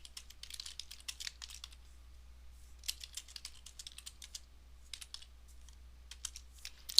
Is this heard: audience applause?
no